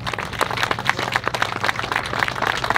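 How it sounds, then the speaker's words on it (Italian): An outdoor crowd gives a dense, steady round of applause at the inauguration of a footbridge over the Malone torrent in Front, with many hands clapping close together for the whole stretch. "Facciamoli un applauso anche a questi signori qua."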